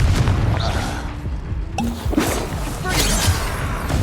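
Confringo blasting spell in Hogwarts Legacy, a loud fiery burst and impact boom in a combat scene, layered with dense game effects and rumbling background noise.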